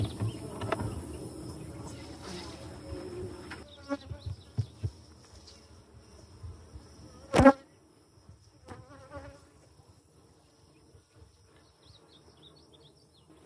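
Honeybees around a strong beehive make a faint, continuous buzz, with a few soft taps and one sharp knock close by.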